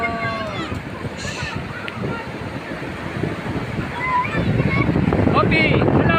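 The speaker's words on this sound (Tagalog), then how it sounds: "Napakalakas ang alon." Strong ocean waves along the coast of Misamis Oriental roll and crash as a broad, steady surf roar, swelling louder in the second half, with wind buffeting the microphone and a voice talking over it.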